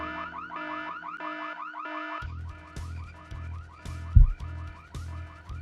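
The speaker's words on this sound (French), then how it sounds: "Alors qui a déclenché l'alarme" A car alarm blares in the Full Throttle adventure game, a repeating electronic warble cycling steadily and loudly, with a low thud partway through.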